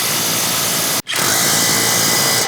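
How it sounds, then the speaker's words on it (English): Power tool tightening the lower 18 mm recovery mount bolts on a steel front bumper on a RAM 1500 DS, a loud close whir that stops for a moment and then spins up again. "don't forget to tighten up these lower recovery mount bolts"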